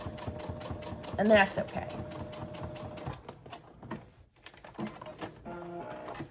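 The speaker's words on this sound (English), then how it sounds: "You just wanna sew a straight stitch" A sewing machine runs a straight stitch through a vinyl zipper pouch, humming steadily for a few seconds before stopping, then starting again briefly, while someone speaks over it.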